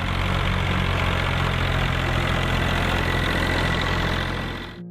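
A Massey Ferguson 135 tractor engine idling, a steady close-up low throb with an even mechanical chug that holds constant before cutting off at the very end.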